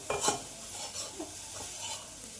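Coconut mixture is stirred in a pan: a few quick scraping strokes of a spoon over a soft sizzle, close and fairly loud.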